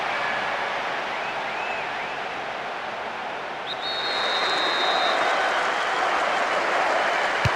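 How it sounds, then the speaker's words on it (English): A stadium crowd roars after a goal in the PES 2010 football video game, a broad, sustained wash of cheering that swells partway through and stays loud to the end. "the goal that all of us were waiting for has come, and you can hear the relief from the crowd"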